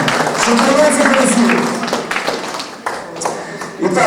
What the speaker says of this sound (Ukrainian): І так оплески до першого учасника.